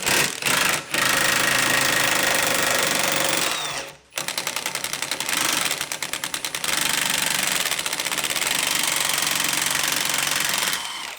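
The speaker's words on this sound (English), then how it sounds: "First, I'm gonna loosen up this strut bolt" Air impact wrench loosening a strut bolt on the suspension of a BMW E9x M3, a loud close rattling burst, a brief stop, then a long hammering run with a rapid pulsing chatter.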